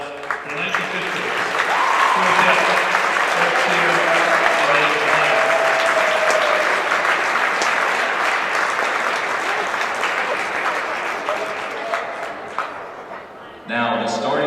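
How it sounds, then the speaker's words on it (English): Sustained applause from a crowd in a gym during a high school basketball game, loud and steady for over ten seconds before fading, with cheers and voices mixed in. "Please show your appreciation and give a big round of applause for the 19th"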